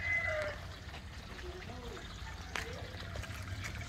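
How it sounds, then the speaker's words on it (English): Water trickles steadily through a homemade fish pond filter, a soft, continuous dribble close by, with faint outdoor chirps and brief voices in the background. "Here's our water filter that we built in the fish pond."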